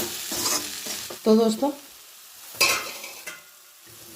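Green chillies stir-fried in a pan for a home-style creamy kadhi, with a steady sizzle and a few sharp stirring scrapes, near and moderately loud, while someone speaks briefly.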